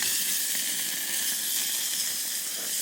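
A New York steak sizzling on a camp grill plate outdoors, a loud continuous hissing sizzle, close and unbroken throughout with no voices.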